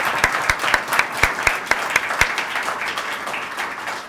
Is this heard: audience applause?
yes